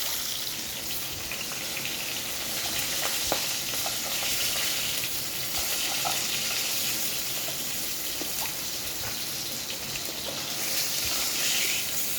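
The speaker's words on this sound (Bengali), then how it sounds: "মাছগুলো আমার ভাজা হয়ে গেছে লাল লাল করে" Steady, dense sizzling of fish frying in hot mustard oil, continuous throughout with no talking.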